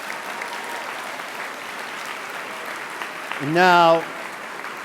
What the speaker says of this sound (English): I ask you to join me in giving Ms. Spear and all of my predecessors a round of applause